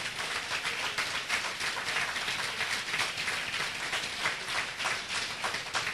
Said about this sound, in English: So clap it up again for Brother Tony Browder.